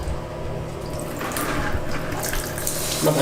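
Water runs steadily from a tap nearby, a continuous splashing rush that stays even and close for the whole stretch with no voices.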